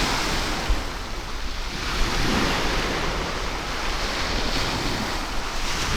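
Strong breeze buffeting the microphone on a seashore while sea fishing for bass, a continuous loud rushing roar mixed with surf, with no talking.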